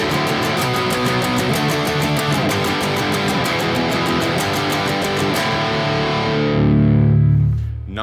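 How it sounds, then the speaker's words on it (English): Electric guitar strumming power chords through heavy distortion, a loud sustained wall of repeated chords that ends on one last chord left to ring out and fade. "if you have some extra distortion or a boost, maybe kick it on, and then we're just gonna, again, strum simple power chords again"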